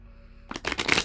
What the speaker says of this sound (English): I'm just going to go ahead and shuffle these.